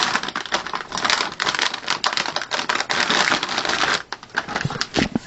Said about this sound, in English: I'll see if I get it out of the bag.